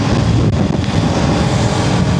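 Loud, steady roar of wind buffeting the microphone while riding a BMW F450GS motorcycle at speed, constant and dense throughout with no voices.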